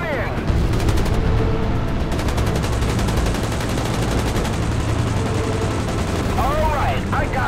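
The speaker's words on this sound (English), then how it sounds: "Enemy fire's being directed at us" Enemy aircraft gunfire in Battlestations Pacific: rapid continuous machine-gun rattle over deep booming battle noise, dense and loud throughout, with brief voices and whistling tones near the start and end.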